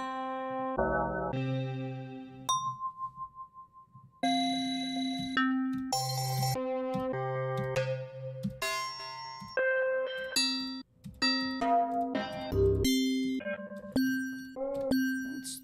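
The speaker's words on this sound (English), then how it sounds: "Let's just type in bell." Bell sound samples auditioned one after another in music production software, separate pitched chimes and dings of varying tone, each ringing briefly before the next, with no voices.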